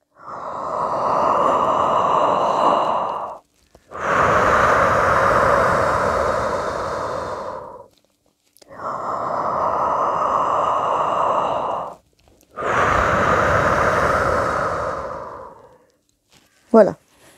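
A singer's breathing exercise: four long, deep, close breaths of about three to four seconds each, separated by brief pauses, ending with a short sharp click.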